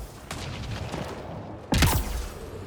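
Incendiary rounds fired in the Mass Effect Andromeda video game: a quick series of gunshots followed by one louder, close blast, all within about three seconds.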